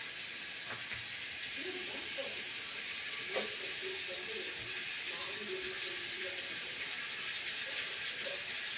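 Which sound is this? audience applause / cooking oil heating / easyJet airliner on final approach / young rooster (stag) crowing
cooking oil heating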